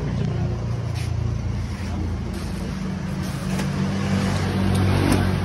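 A GNT courier vehicle's engine runs nearby with a steady rumble that swells slightly toward the end, heard under background voices.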